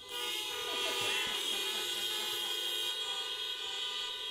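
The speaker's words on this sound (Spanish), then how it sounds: "da dos bocinazos" Car horns sounded by a congregation at an outdoor drive-in Sunday Mass, several overlapping sustained toots held together for a few seconds at moderate distance.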